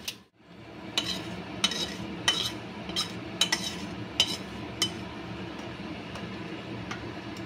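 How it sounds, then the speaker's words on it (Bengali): Spoon clinking against a pot as spice mix is stirred into vegetarian khichuri, several sharp metallic taps at an irregular pace over a low, steady kitchen background. "এবার আমি কিন্তু মশলাটা খিচুড়ির মধ্যে দিয়ে ভালো করে খিচুড়িটা মিশিয়ে নিচ্ছি"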